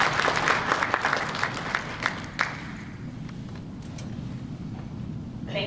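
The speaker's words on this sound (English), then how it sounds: "So everybody please give a round of applause for Elise Forward." A conference audience at a food-industry suppliers' symposium claps for an introduced speaker, steady applause that is brisk at first and then thins and fades, heard from within the room.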